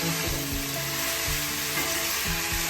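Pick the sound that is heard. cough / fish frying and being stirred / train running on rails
fish frying and being stirred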